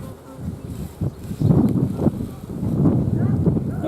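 Honey bees buzz around a beehive at close range, a steady dense drone that swells and dips, with faint voice-like sounds mixed in.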